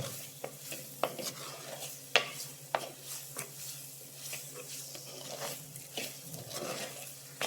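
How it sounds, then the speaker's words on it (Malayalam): Spices frying in a pan for green peas masala, a soft continuous sizzle broken by sharp spoon scrapes and knocks against the pan as it is stirred, close and fairly quiet. "നന്നായിട്ടൊന്ന് ഇളക്കുക."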